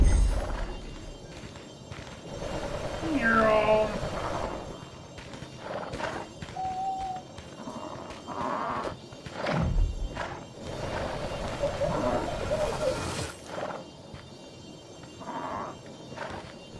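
Horses in the video game Creatures of Ava give soft hoof clip-clops and brief whinny-like calls, moderately quiet, mixed with light game ambience and scattered effects.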